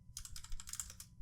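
Fast typing on a computer keyboard, with a quick irregular run of light key clicks heard up close and quiet. No voices.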